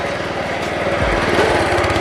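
A lawn mower runs on a sloped putting green, a loud, close, steady engine buzz with a slight surge midway as the load shifts, no voices over it.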